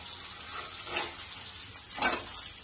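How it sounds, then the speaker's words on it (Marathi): Prawn-stuffed pomfret frying in a pan over medium heat, a quiet, steady sizzling hiss that swells briefly twice. "5-6 मिनिटातच पापलेट फ्राय होते दोन्ही साईडनी."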